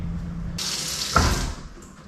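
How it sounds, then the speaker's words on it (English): Water from a kitchen tap runs over fresh snook fillets as they are rinsed. The close, steady splashing starts after a brief pause, lasts about a second and then fades out. "I'm going to rinse them, put them on a plate."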